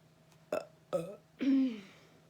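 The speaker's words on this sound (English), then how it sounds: "That was a burp." Three short burps in a row, close up, the last one longer and deeper than the first two.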